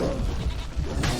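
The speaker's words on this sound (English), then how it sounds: "Stupid goat." Goat bleating from The Witcher 3 video game, a loud nasal bleat running through most of the short moment over low game rumble, with a brighter burst near the end.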